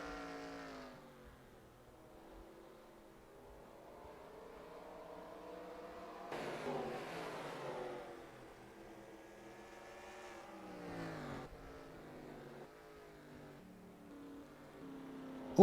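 Simulated NASCAR race cars at Bristol in NASCAR Racing 2003, several engines droning and shifting pitch together, with louder surges as cars sweep past, steady mid-level pack noise throughout.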